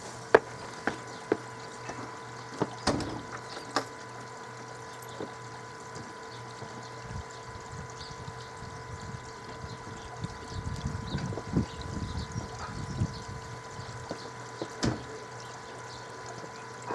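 An air bubbler beside the skimmer of a koi pond runs with a steady low hum and soft gurgling water, outdoors and fairly quiet, with a few scattered clicks and light splashes.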